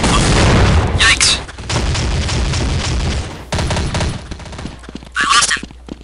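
A grenade blast and gunfire in the video game Counter-Strike: Condition Zero, loud booming bursts and rattling shots crowding the mix, with voices talking in between.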